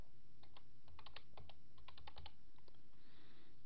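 Quick bursts of typing on a computer keyboard during a Debian 6 software setup, with irregular clusters of crisp key clicks close to the microphone, then a pause and faint hiss, with no talking.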